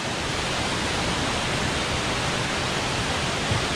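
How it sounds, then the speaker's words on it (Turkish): Kürekli Dere waterfall, 82 metres high, rushing in a loud, steady, broadband roar close by, unbroken for the whole stretch with no voices over it. "Kürekliler şelalesi cidden çok güzel bir yer."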